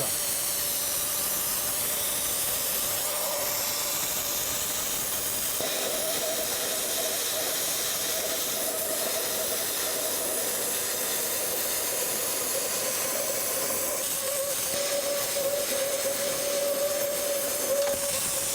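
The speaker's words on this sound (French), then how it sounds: "nous allons avoir la flamme, plus l'arc électrique qui, lorsque l'on va approcher le poste de la masse, va faire contact" A Multiplaz 3500 portable plasma torch gives a continuous, loud hiss of flame and electric arc with a steady whining tone, running uninterrupted throughout.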